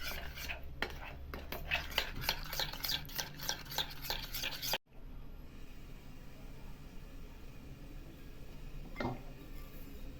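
Namak para dough of wheat and maida flour being mixed by hand in a bowl, with a busy run of close rubbing and light tapping sounds that stops abruptly midway, leaving quieter background noise.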